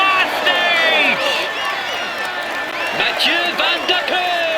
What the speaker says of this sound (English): Ladies and gentlemen, applaud him loudly